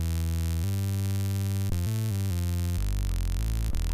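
A thick, buzzing synthesizer bass from a 2002 MicroKorg plays sustained low notes that shift pitch every half second or so, dense and droning with no voices.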